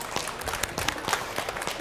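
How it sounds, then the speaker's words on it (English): A small audience at a CES 2017 trade-show booth bursts into brief, scattered clapping, close and lively, while a voice talks faintly underneath. "Another round of applause for them."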